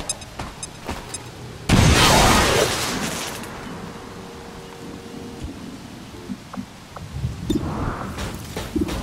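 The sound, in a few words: grenade explosion in video game XCOM 2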